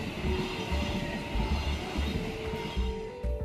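A train rolls past on a railway, a loud, close, continuous rumble with rhythmic clattering wheels and a faint steady whine over the track noise.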